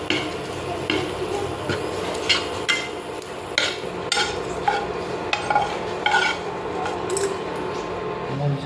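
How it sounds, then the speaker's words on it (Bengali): Fried prawn legs are mashed and stirred in a bowl, giving repeated scraping, knocking utensil strikes against metal and crunchy squelches at an uneven rhythm, close and clear. "এখন এটাকে আমরা ভর্তা করব"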